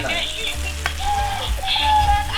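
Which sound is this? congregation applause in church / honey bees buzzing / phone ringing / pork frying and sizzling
pork frying and sizzling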